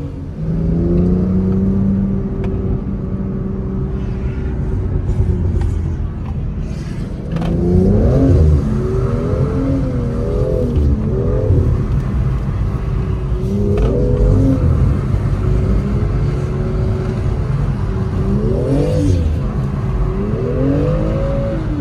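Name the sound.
car engine revving as the driver gives throttle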